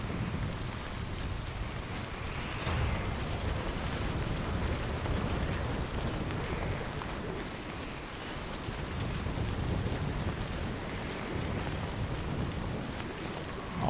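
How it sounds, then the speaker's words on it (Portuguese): Heavy rain pours steadily in the video game Death Stranding, a dense, continuous roar of downpour with low rumbling undertones, loud and unbroken throughout with no voices. "a chuva tá bem forte aqui"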